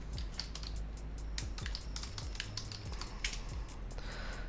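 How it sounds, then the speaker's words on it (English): Computer keyboard keys are tapped in quick, steady succession to enter a shortcut, with crisp close clicks over a constant low hum. "so the moment I hit W and T on my keyboard"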